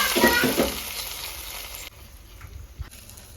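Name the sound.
onion tempering sizzling in oil for fish curry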